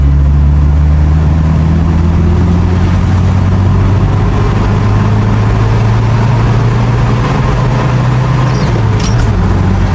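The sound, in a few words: Toyota HiAce Siyaya taxi accelerating in third gear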